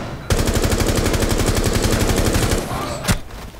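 Automatic gunfire in the video game Rainbow Six Siege rattles out as a loud, close rapid burst of about two seconds, followed by a single sharp shot.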